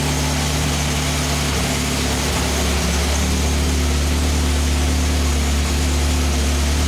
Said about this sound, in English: I don't know if I'm imagining it or if it's an actual exhaust leak.